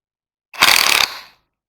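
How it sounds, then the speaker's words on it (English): A socket ratchet undoes one of five hub bolts on a car's wheel hub after the half shaft is freed, giving a quick burst of close, rapid clicking that lasts about half a second and fades out. "you then have these 5 bolts to undo here"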